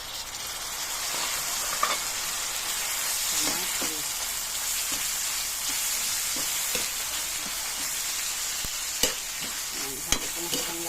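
Chopped onion and tomato sizzling steadily in a pan for adobong kangkong, a loud, constant frying hiss with occasional sharp crackles and stirring clicks and no voices.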